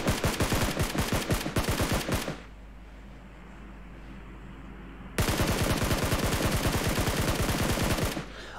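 Rapid automatic gunfire in the mobile game PUBG Mobile comes in two loud, close bursts of fast rattling shots, separated by a few seconds of quieter background.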